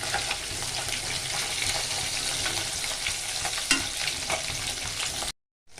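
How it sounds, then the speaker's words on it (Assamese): Fish pieces sizzle and fry in a silver wok for a spiced fish curry, a steady close crackle with the scrape of stirring throughout, ending abruptly in silence. "মাছখিনি ধুনীয়াকৈ সিজিবৰ বাবে লৰাই থাকিলোঁ"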